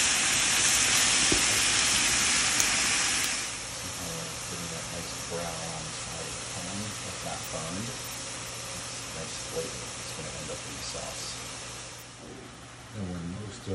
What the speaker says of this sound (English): what I'm going to do is brown off some sausage